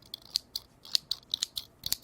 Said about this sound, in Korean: 가위 소리는 되게 잘 들어가는 것 같아.